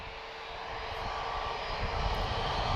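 A Transavia jet airliner at Lisbon Airport gives off a steady, fairly distant engine roar with a broad hiss, rising slightly in loudness, with no voices.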